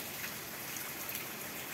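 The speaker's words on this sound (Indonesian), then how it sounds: "Jadi ini posisi sangat hujan deras." Heavy rain pours down at night in a steady, even hiss of drops. It is fairly faint and continuous, with no voices.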